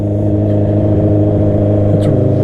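Honda CB650R motorcycle engine running loud while cold, a steady, throaty inline-four drone close by with a slight rise in pitch near the end.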